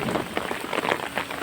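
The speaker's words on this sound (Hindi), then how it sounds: "बारिश ही नहीं रुक रही है" Steady rain falls in a hill village, drumming densely on surfaces with scattered louder drops. It is heard alone, with no voices.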